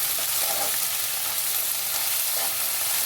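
Ginger garlic paste is stirred into onions frying in a pan, giving a loud, continuous sizzle with faint scraping from the stirring and no voices.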